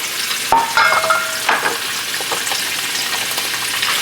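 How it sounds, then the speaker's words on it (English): Oxtail beef fat hitting hot beef tallow in a pan, a sharp burst of sizzling followed by steady close crackling frying and a few stirring scrapes. "as soon as you start to see a little smoke come from it, in with the fat you go"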